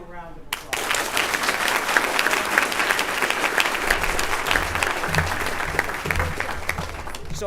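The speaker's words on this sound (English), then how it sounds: "Give them a round of applause." At a Baltimore community salute ceremony, a crowd breaks into sustained applause after a brief opening voice, the dense clapping holding evenly for several seconds with faint voices beneath.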